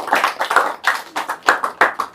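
Audience at a Dhanvantari maha yagam clapping in bursts, near and loud, with several uneven rounds of hand claps that rise and fade in quick succession, without speech over them.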